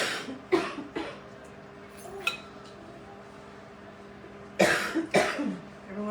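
Several short, faint coughs from a person with allergies during a community cooking class, scattered in bursts with light clinking of dishes and quiet background sounds.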